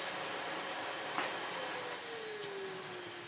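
A restored Electrolux D820M (Lux 1 Royal) vacuum cleaner runs steadily on its minimum setting, giving a continuous close whine and airy hiss with a brief click partway through and no talking.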